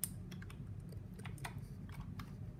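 Rapid, irregular clicks of typing on a computer keyboard in a gaming setup, quiet and close, with no talking.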